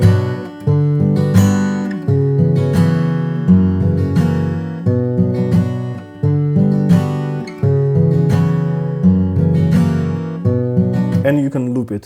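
Guitar chords strummed in a rhythm, cycling through four chords in a looping, clipped pattern of repeated bursts, played alone with no talk.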